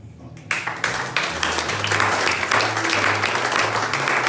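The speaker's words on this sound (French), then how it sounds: "On acclame." A church congregation at a Sunday anointing service breaks into loud applause after a brief quiet start, a dense and sustained clapping that continues to the end with some voices mixed in.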